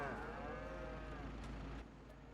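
Cattle moo in the farming game Farming Simulator 25, one long drawn-out low moo up close over a steady background hum, with no talk.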